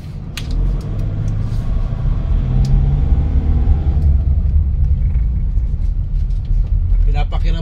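A Toyota HiAce 3.0 van with surplus fuel injectors rumbles steadily on a road test, its engine and road noise loud and constant throughout, with some voice sounds mixed in.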